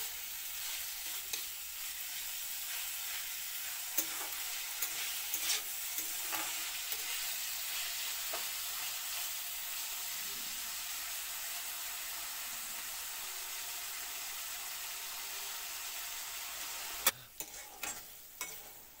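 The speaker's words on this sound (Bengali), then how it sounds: "একটু ভালো করে লাল লাল করে ভাজা করা হইব।" Shrimp frying in a pan with turmeric and salt, a continuous soft sizzle with occasional faint clicks of stirring, steady and fairly quiet throughout.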